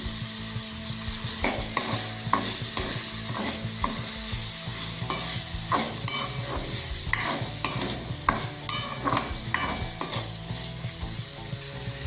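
Potatoes and broad beans sauté in hot oil for upma while a spoon stirs and scrapes the pan, producing a continuous loud sizzle broken by frequent rhythmic clattering strokes, close up with no talking.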